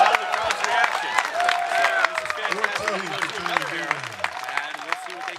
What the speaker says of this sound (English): We got another 14 by the sound of the crowd's reaction.